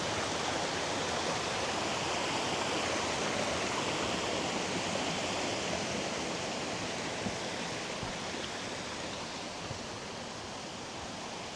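A small river flows through forest in Skuleskogen National Park, Sweden, a steady close rush of water with an even, continuous hiss and no other sounds.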